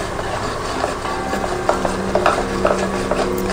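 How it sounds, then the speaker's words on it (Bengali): A spoon stirs cornflour into room-temperature water, giving a thin slurry for chicken sweet corn soup. Soft swirling comes with irregular light clicks and taps of the spoon against the bowl, close by and with no voices. "প্রথম যেটা করব, একটু কর্নফ্লাওয়ার গুলে রেখে দিচ্ছি"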